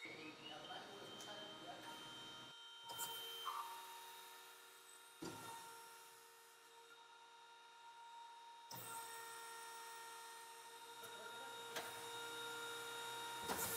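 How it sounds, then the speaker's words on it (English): A specialized winding machine wraps copper wire into a high-voltage turbine coil with a steady mechanical whine and tonal hum. The sound breaks off abruptly several times and then resumes. "This is done using specialized winding machines that can handle the high voltage requirements of the coil."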